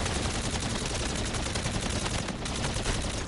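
Gunfire in a video game during a boss fight: a dense, unbroken barrage of rapid shots that fills the whole stretch at steady loudness, with no pauses between bursts.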